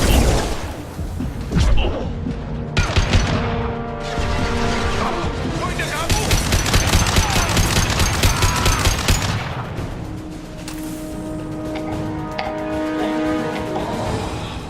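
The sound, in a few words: gunfire in Mass Effect 2 video game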